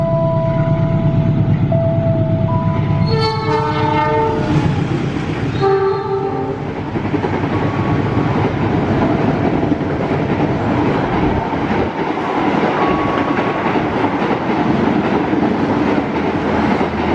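An Indonesian passenger train of 13 cars sounds its horn in a few tonal blasts, then rolls past loudly with a continuous rumble and rhythmic clickety-clack of wheels on rail joints.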